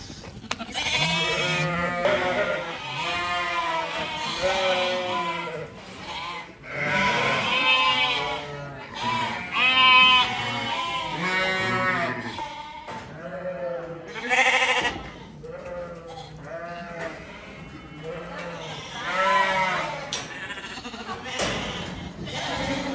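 A flock of ewes bleats loudly in a shed before worming, many overlapping wavering calls following one another almost continuously, with an occasional thump in the background.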